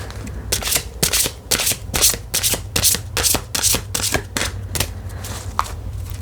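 Tarot cards being shuffled in quick repeated riffles, each a crisp burst of flicking, close and clear with short pauses between.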